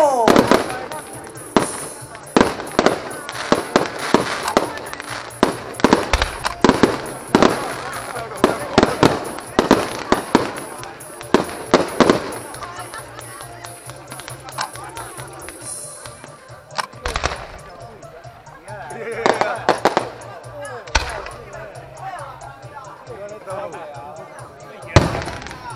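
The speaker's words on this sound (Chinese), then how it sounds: "来安排我们的烟火秀。" High-altitude fireworks at a temple festival for Amitabha Buddha's birthday crackle and bang in rapid, loud volleys, then thin out to scattered booms. Voices of people talking carry through much of it.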